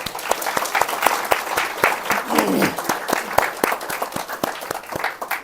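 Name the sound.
congregation applauding in church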